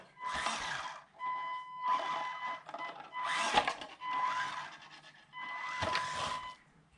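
A Tetra K1 Sport 1/18 RC crawler by Panda Hobby runs at its high speed setting, its motor whining in four distinct bursts with short quiet gaps between them, moderately faint.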